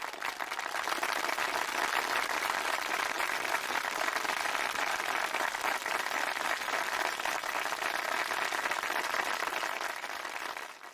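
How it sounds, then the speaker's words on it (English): An audience at a 5th grade moving-up ceremony applauds a class in a long, steady wash of clapping that stays even and dense throughout. "Can we have another round of applause for Mrs. Grudadori and Mrs. Tohill's class?"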